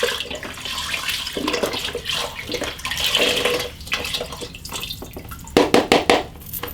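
Chicken broth poured straight from its carton into an Instant Pot for chicken, broccoli and rice, a steady close splashing and gurgling stream with a louder, choppier burst of splashes near the end.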